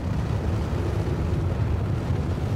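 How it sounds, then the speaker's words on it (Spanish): Powerful engines of a Drake Herald spaceship in Star Citizen flying over a night city, a continuous loud low roar and rumble that stays steady throughout, with no talk. "De ahí ese ruido de los motores tan, tan potente."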